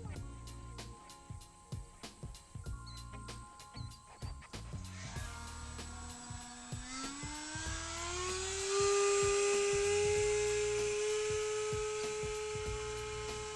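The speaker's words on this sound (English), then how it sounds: "It sounds like my throttle's cutting out periodically." Electric ducted fan on an RC glider with a throttle that cuts out, heard outdoors: a loud, whining fan sputters in uneven pulses before steadily spooling up into a sustained, rising high-pitched whine.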